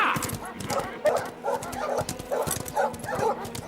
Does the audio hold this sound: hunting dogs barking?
yes